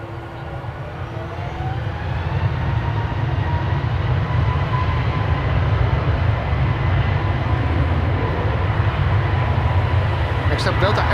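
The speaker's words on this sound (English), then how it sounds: "Iceland Air over here lined up. Going to Reykjavik, flight 501" An Icelandair Boeing 737 MAX 8 lined up for departure at Amsterdam Schiphol rumbles with a steady, loud broadband jet roar that builds slightly and then holds for the whole stretch, with no talk over it.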